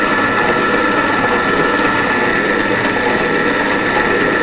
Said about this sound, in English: Apparently the mixer can't mix it, so I'll mix it.